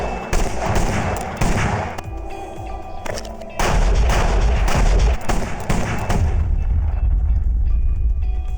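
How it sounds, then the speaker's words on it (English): Gunshot sound effects of a classic Colt 45 pistol and a bass-heavy Winchester rifle for a film: loud, close booming shots fire in quick succession, each with a sharp crack and deep rumbling tail. "putting in a classic Colt 45, but I think that there also might be room for a Winchester rifle in there too"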